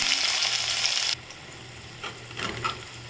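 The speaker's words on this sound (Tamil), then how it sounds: "வெங்காயத்தை நல்லா வதக்கிக்கோங்க" Onions and urad dal frying in hot coconut oil in a pan for a drumstick stir-fry: a strong sizzle that drops suddenly to a quieter crackle, followed by a few soft stirring scrapes.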